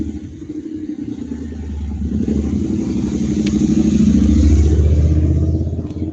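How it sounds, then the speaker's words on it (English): A loud motorcycle engine rumbles past close by, swelling to a roaring peak before beginning to fade. "motorcycle going by, kind of loud."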